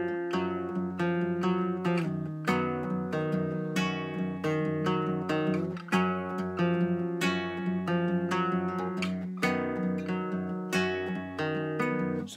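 An acoustic guitar in open tuning plays the intro to a song, with ringing fingerpicked notes over a droning low bass. It sounds close and steady throughout, with no talking.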